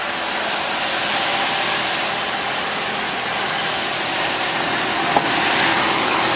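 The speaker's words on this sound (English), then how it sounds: "This truck sounds great and it runs very smooth." A 2006 Dodge Ram 1500 Hemi pickup engine idles steadily and smoothly, a constant close hum with no talking and only a tiny click near the end.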